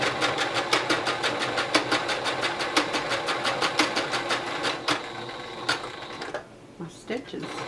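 A sewing machine stitches a fabric mask strap in a fast run of rapid mechanical needle strikes, pausing briefly and restarting in short bursts near the end; the stitch catches at one spot.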